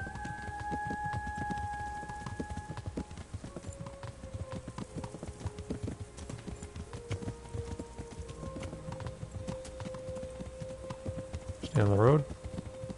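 Horse hooves clip-clop steadily on a road in the medieval video game Kingdom Come: Deliverance, played on PS4, a soft rhythmic trot under game music tones and a brief loud burst near the end.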